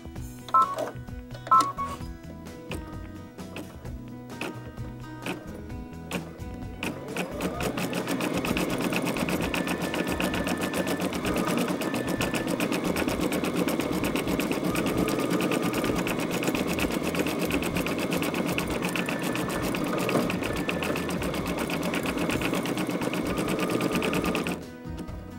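A sewing machine stitches an appliqué shape onto sticky stabilizer: a few short starts, then a fast continuous mechanical whir that runs close and steady until it stops near the end.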